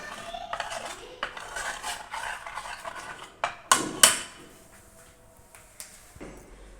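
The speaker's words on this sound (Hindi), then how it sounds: "चम्मच की मदद से आप इसको अच्छे से पेस्ट बना लें" A spoon stirring and mashing a paste in a bowl, with scattered metallic clinks and scrapes, a couple of louder knocks against the dish near the middle, then quieter taps.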